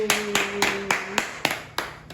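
A group claps together at a Bible doctrine school camp, about eight sharp, evenly spaced claps in unison with a brief sustained tone fading beneath the first few.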